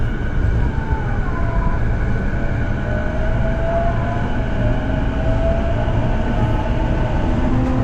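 Local line train in Japan rolling toward Ofuna, with a steady loud rumble of wheels and car body throughout and faint high squeals from the rails, no voices.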